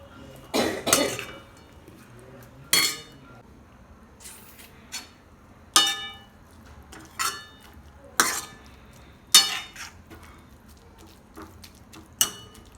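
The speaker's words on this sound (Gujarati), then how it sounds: "સરસ મજાની હલાવી નાખીએ એટલે પરતેથી બધેથી સરસ રીતે આવી જાય" A spoon stirs sava (dill) greens in a cooking pot, sounding as a series of distinct clinks and scrapes against the metal every second or two, fairly close, with quiet gaps between and no voices.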